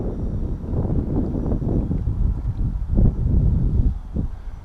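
Wind gusts blow outdoors at an RC model airfield, a steady low rumbling buffet that swells and surges around the three-second mark, continuous and fairly loud with no talk.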